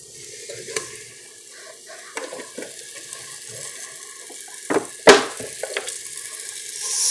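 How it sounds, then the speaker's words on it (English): Cube steaks sauté in an Instant Pot with a soft, sparse sizzle, interrupted by scattered knocks and scrapes of a utensil and one louder clunk near the end. "I'm going to see how it sautés my"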